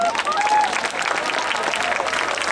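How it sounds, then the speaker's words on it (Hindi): Students at a Lucknow University centenary celebration break into loud applause, a dense burst of clapping that holds steady throughout with faint voices mixed in. "एक बहुत जोर सी तालियों की गूंज,"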